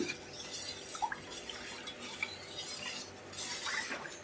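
Carrot halwa mixture with cornflour stirred in a pot, a spoon scraping and clinking against the metal in a steady, moderately quiet rhythm with a few sharper taps, no voices.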